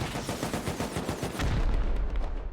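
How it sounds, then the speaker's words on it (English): Rapid gunfire and explosions from a Rust video game 8v8 tournament base raid with C4, dense overlapping shots in quick bursts, loud and continuous, with a heavier boom rising partway through. "You just standing around, not minding all the gunshots and the boom."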